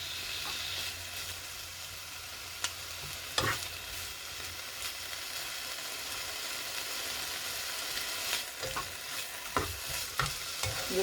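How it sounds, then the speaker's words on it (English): Sliced bacon sizzles steadily in a pan for spaghetti carbonara while a utensil scrapes and stirs it around, with several sharp clacks and scraping bursts over the continuous frying hiss. "Your bacon cooking. Make sure to keep it moving."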